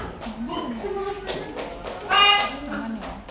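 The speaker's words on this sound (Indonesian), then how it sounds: "Tepuk tangan." Children in a classroom clap their hands in short bursts among chatter and a teacher's voice, with one louder, denser round of claps rising near the middle.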